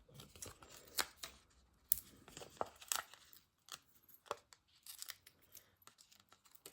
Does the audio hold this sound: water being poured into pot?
no